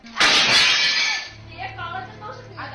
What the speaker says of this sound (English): The woman smashing the furniture with a hammer was named Lu Yan